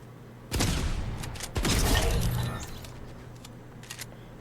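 Gunfire from a Fortnite weapon fitted with a muzzle brake, tested at the firing range: two loud, sharp bursts about a second apart, then a faint, quieter tail.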